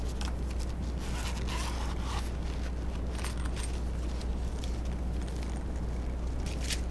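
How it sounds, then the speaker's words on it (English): A zipper on the padded carry case of a HoldPeak HP-90EPC digital multimeter rasps along in repeated short pulls, close by, with a scraping texture over a steady low hum. "Good zipper to it"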